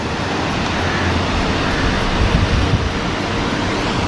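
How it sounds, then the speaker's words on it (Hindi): Broad, steady rushing of river water flows far below a swaying suspension bridge at Kirtipur near Kathmandu, Nepal, loud and continuous with wind buffeting mixed in and no voices. "नीचे पानी का साउंड"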